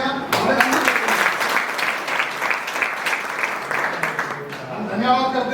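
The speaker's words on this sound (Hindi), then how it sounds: "और जोरदार तालियां।" Audience applause at a motivational company gathering, a steady wash of clapping close and loud, with a voice speaking faintly over the last moment.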